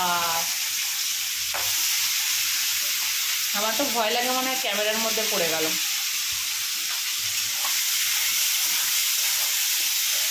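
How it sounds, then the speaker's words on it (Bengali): Prawns frying in a pan give a steady, loud, close sizzle and hiss throughout, while a voice talks briefly over it partway through. "চিংড়ি ভাজা হচ্ছে"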